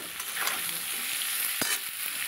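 Cauliflower stalks fry in oil tempered with black cumin, with turmeric and salt added, making a steady close sizzle broken by occasional scraping stirs.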